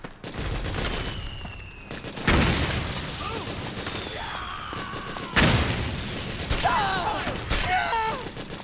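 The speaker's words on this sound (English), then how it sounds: "Suppressing fire!" Dense battlefield gunfire in Metal Gear Solid 4, sustained automatic fire and booming blasts layered continuously, with shouted voices over the barrage.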